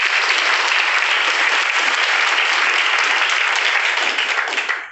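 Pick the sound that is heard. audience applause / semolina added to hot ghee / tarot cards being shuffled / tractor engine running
audience applause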